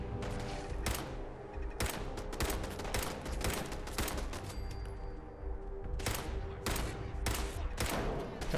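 Turret gunfire in the video game Fallout 4: loud, rapid bursts of automatic shots repeat in clusters with brief gaps, close and dense throughout.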